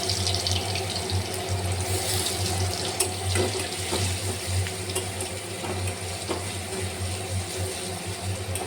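Garlic cloves fry in hot oil with black cumin seeds for a cabbage bharta, giving a steady, close, even sizzling hiss that carries on without a break.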